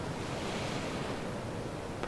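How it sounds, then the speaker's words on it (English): Ocean waves wash against the shore while wind blows steadily, a dense, continuous roar of surf filling the whole stretch with no other sounds. "The waves, the wind."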